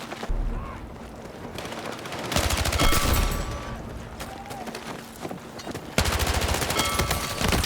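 Gunfire in Battlefield 6, several loud automatic bursts at close range separated by short pauses, with quieter shots and movement between them.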